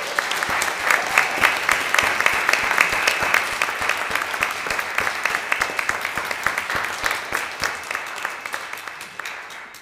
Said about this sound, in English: I think we should just give a round of applause already.